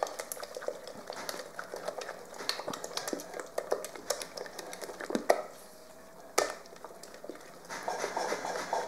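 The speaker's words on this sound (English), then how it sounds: "you can hear I'm shaking the whole table." Kitchen table rattling and clattering as fudgy brownie batter with eggs is mixed, a busy continuous patter of knocks and utensil taps with a few sharper thumps and a brief lull near the end.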